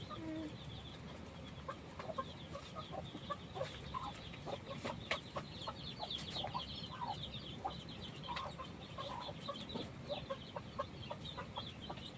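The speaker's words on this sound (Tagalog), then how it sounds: "Ginutom ang manok mo." Hungry chickens cluck softly and intermittently in the background amid a steady outdoor noise bed, scattered short calls spread across the whole stretch.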